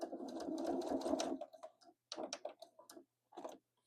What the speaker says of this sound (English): we sew along our edge until we get to about a 1/4 inch from the corner